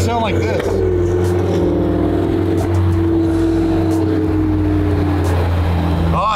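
A McLaren Senna drives past, its engine revving with a rising, sustained tone and a deep rumble, loud and near, while people talk over it.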